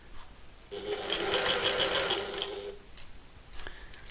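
A sewing machine stitches a bag lining panel in a fast, even mechanical whir for about two seconds, stops, then gives a few short clicks and taps.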